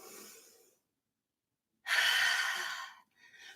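Slow exhale out of the mouth during a yoga breathing exercise, a soft breathy release near the microphone, then a quiet pause and a second longer, stronger exhale with a brief third breath after.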